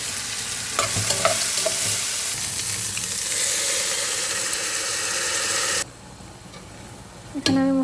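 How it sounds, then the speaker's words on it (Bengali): Onions and whole garam masala spices fry in a pan with a loud, continuous sizzle, broken by scraping stirs and clinks early on, then a softer hiss and a final clatter. "হালকা পেঁয়াজটা ভাজা হচ্ছে"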